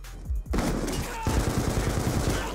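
Rapid bursts of gunfire from a shooter game crack out loud and close, with a short volley followed by a dense rattling string of shots.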